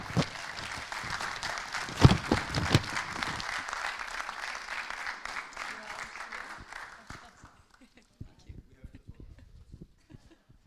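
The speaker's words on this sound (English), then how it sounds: "please, a round of applause for the Austrians in the room" Conference attendees at a direct democracy forum give a round of applause, a crowd's clapping that builds, then thins to scattered claps and fades out, with a voice heard briefly.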